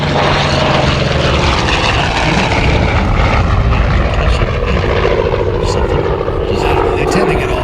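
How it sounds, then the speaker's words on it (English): A Douglas A-1 Skyraider propeller warbird at an air show roars loudly and steadily overhead, its big radial engine droning with a shifting pitch as it passes, continuous and close throughout. "It's the Skyraider."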